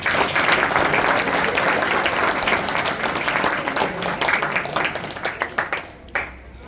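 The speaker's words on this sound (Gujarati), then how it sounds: "એકવાર આપણે જોરદાર તાળીઓ" An audience at a school annual day function gives loud sustained applause for the children and teachers, dense clapping that thins into scattered claps before fading out.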